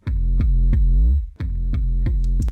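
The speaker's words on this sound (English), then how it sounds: "All right, so I've got this little verse guitar here." An electric guitar plays a pop verse part doubling the rhythm of an 808 bass, a string of loud, close, plucked low notes with sliding pitch, broken by one short gap.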